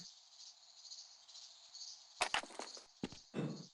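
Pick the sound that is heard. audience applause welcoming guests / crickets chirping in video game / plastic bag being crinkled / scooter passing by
crickets chirping in video game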